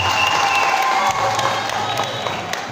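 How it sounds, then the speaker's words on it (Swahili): Sustained applause from an audience at a church gathering in Iringa, steady dense clapping with some crowd noise, loud and continuous throughout. "tuwapigie makofi"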